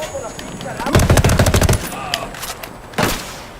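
Rapid automatic gunfire in the video game Ghost Recon Wildlands crackles in a loud burst, followed by scattered single shots and a final sharp report, close and alone.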